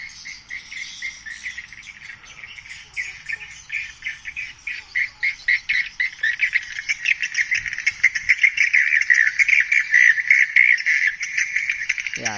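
A swiftlet house call plays as a rapid, repeating chirping pulse that grows steadier and louder over its length, carrying a bright twittering tone with no voices present.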